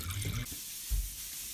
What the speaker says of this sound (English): I'm gonna put in a little bit of water